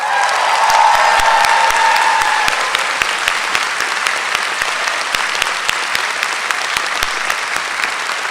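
A large crowd applauds the conductor and band at a university business school graduation ceremony. The loud, sustained clapping fills a big hall and carries a few cheers early on before settling into steady, even applause.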